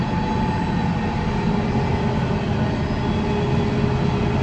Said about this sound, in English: Train's almost passed.